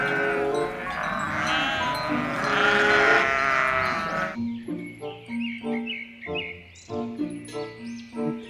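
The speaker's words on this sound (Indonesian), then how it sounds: "Ini kambing." A toy-like goat calls with a long, loud wavering bleat, then a string of short bouncy bleats in quick rhythm, all close and without speech.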